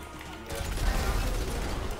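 A gun being reloaded in the GTA 5 video game, a short mechanical clack followed by dense rattling clatter, close and brief.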